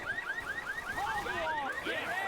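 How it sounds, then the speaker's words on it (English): A car alarm goes off in the Left 4 Dead video game, a rapid series of rising electronic chirps that repeat steadily and then switch to longer warbling tones, fairly faint under the game's background noise. "Just going to go ahead and trigger the alarm."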